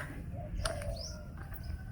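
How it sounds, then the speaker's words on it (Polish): Faint bird calls drift through a quiet outdoor setting in Thailand, a soft coo and a brief rising chirp against low background rumble. "te ptaki, które słyszę i ta cisza, którą słyszę oprócz ptaków"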